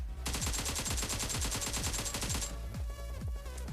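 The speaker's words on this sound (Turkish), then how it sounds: "bir patlama sahnesini görelim" Rapid, dense bursts of gunfire-like blasts and booms in PUBG Mobile, loud and continuous, with a heavy low rumble and a musical backdrop.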